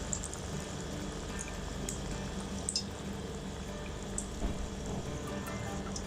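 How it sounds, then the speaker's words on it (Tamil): Batter-coated, masala-marinated cauliflower fries in very hot oil for cauliflower 65, giving a steady, even sizzling hiss close by with faint pops and no voices. "அந்த மசாலாவில் ஊற வச்சோம்ல அந்த காலிஃப்ளவரை இதில் போட்டு எடுக்க போகிறோம். நல்லா சூடாக இருக்கணும் எண்ணெய்."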